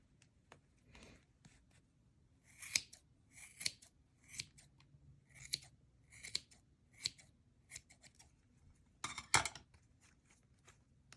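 Scissors trim a yarn pom pom made on a Clover pom pom maker, producing a run of close, crisp snips in irregular clusters over a quiet background.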